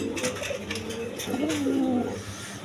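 White Indian Bombay pigeons in a farm loft give a steady, close, low cooing that swells and fades over a few seconds, with no talking.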